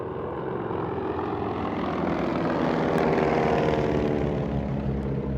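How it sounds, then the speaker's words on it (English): Beechcraft Staggerwing biplane passing by, a steady throbbing radial engine and propeller drone that swells slightly toward the middle, fairly loud with no voices. "Another stagger wing flyby."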